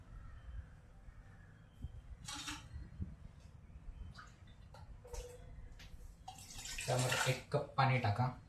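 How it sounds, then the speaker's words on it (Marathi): A cup of water pours into a tea pot in a home kitchen, a near splashing rush building in the final seconds after quieter clinks and handling. "त्यामध्ये 1 कप पाणी टाका."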